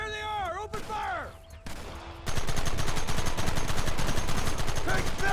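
Gunfire erupts in Red Dead Redemption as a sudden, loud volley of rapid shots that keeps going without a break, following shouted voices.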